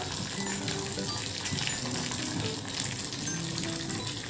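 Continuous loud crackling sizzle of mustard seeds, green chili and curry leaves hitting hot oil, dense and even throughout, with no talking.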